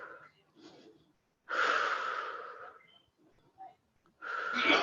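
Slow, audible breaths during an intermediate yoga class, a long airy exhale in the middle and another starting at the end, close and soft with quiet pauses between.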